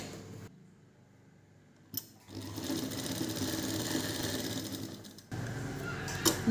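Sewing machine stitching fabric in a tailoring class, a quiet pause followed by a brief clack and then a long run of rapid, even needle chatter, stopping and starting again near the end.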